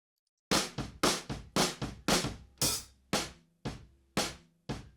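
Live drums in a rehearsal room: a loud kit pattern of sharp, punchy hits, kick and snare in a steady groove, with short ringing decays and no voices.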